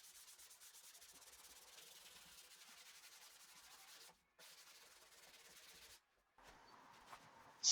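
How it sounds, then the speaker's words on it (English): Quiet, steady hand sanding of wood with 220-grit paper, a soft continuous hiss interrupted by two brief pauses. "then 150 with my vibration sander, and finally 220 grit with hand sanding"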